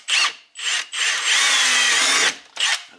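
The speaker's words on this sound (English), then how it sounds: "we need to drill out the little small holes here with a 1/8 drill bit" A power drill fitted with a 1/8 inch bit bores small holes in a Corvette C5 radio bracket. Two short whirring bursts come first, then one long steady run and a final brief burst, all close and clear.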